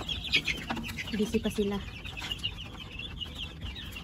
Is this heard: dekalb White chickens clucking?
yes